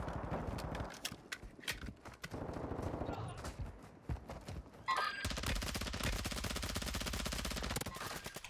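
RAAL light machine gun firing on Ashika Island in a shooter game, a long, rapid, loud continuous burst of shots following quieter footsteps and scattered distant gunfire, with a player voice in the mix.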